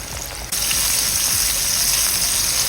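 Chicken fillets for a Nashville hot chicken sandwich fry in hot oil, giving a steady, dense sizzle and crackle that swells louder after a brief quieter opening and then holds evenly close by.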